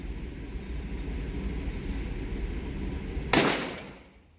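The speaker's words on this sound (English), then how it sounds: "That, my friend, was a squib" A single sharp gunshot-like crack from a Smith and Wesson revolver firing a weak squib load, sudden and loud against quiet outdoor ambience, then fading out quickly.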